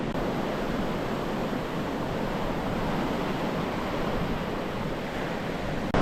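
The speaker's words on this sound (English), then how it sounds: "it's been very windy down here since I've been. It's starting to like go down slightly, the wind, but the waves are acting up" Steady roar of surf and gusting wind at Santa Maria beach in Cuba, a dense continuous wash of breaking waves heard close and fairly quiet, with no voices.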